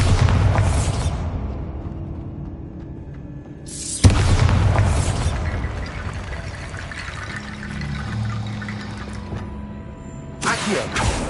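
Heavy booming blasts from the Bombarda blasting spell in Hogwarts Legacy, a deep explosion at the start, another around four seconds in and a third near the end, each followed by rumbling debris.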